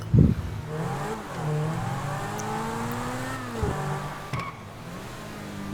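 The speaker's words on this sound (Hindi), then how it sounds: "निकालते हैं घर से बाहर गाड़ी को और भगाते हैं" Car in the GTA video game pulling away from a house and accelerating, engine rising and falling through gear changes with a whirring tone, steady and close, no voices.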